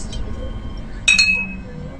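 Glasses clink together in a toast among a group drinking, with two or three bright, ringing chinks close by about midway through, over a low murmur of background room noise.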